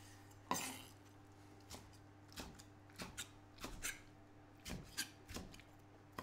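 A knife cuts vegetables into big chunks on a board in a home kitchen, a quiet, uneven series of taps and thuds spaced about a second apart with no voices.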